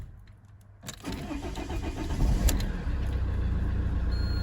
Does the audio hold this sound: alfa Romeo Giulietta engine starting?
yes